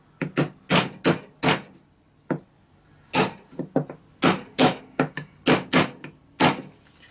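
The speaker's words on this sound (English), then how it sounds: "I'm going to use this piece of steel with a hammer" Sharp hammer blows on a steel drift, driving a seal into a 5HP18 automatic transmission tail piece, come in irregular clusters of close, loud metallic strikes with short pauses between them.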